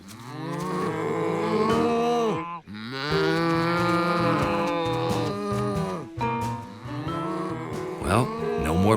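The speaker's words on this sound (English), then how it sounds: "How could he quiet the cows?" Cartoon cows mooing in long, loud, overlapping calls, several animals lowing one after another close by with brief gaps between bellows.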